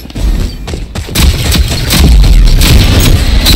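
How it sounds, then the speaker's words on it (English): Video game gunfire comes in rapid bursts amid heavy booming impacts, loud and close, as repeated cracks and thumps in a dense chaotic mix of battle noise. "He is using a burst fire, isn't he?"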